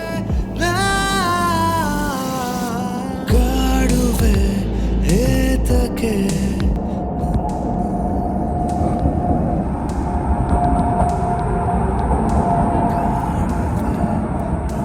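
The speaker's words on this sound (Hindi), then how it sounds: "यहाँ पे इस साइड आ रही है मुंबई से मैंगलुरु जाने वाली मत्स्यगंधा एक्सप्रेस।" The Matsyagandha Express, running from Mumbai to Mangaluru, passes on the other track at a single-line crossing on the Konkan railway. A horn sounds first, then the rumble and clatter of the train carry on steadily.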